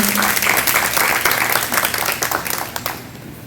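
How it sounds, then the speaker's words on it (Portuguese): Applause from a church congregation during an evening worship service, a dense, steady wash of many hands clapping that fills the room and slowly thins toward the end, with no talking over it. "Vamos dar um aplauso a Jesus pela vida dela."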